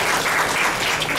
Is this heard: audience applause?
yes